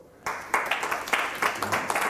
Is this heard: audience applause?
yes